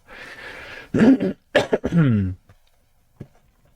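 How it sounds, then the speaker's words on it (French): A few harsh coughs close by, coming in short bursts separated by brief pauses, followed by quiet. "Je vais peut-être tousser pendant quelques minutes"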